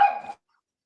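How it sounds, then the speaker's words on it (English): A dog gives a single short bark nearby, clear and fairly loud, then silence follows. "And the dog agrees as well."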